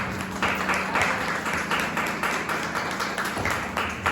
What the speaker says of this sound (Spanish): me gustaría que le diéramos un fuerte aplauso